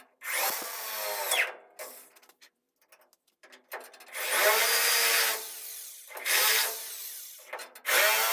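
A power drill bores holes in metal on a small restoration project, in three or four loud, close whining bursts separated by pauses with faint handling noise.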